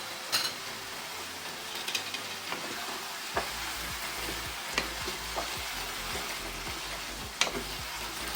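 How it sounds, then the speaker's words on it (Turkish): Boiled meatballs tipped into a pan of tomato paste sauce while making sıkma köfte, giving a steady low sizzle with scattered soft knocks and stirring scrapes throughout. "Haşladığımız köftelerimizi içerisine boşaltıyorum"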